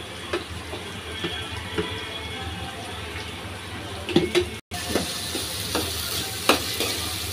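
Pulses sizzle in a pan with gourd leaves about to be added, a steady frying hiss broken by scraping, clinking stirs of a spoon, with a brief dropout partway through.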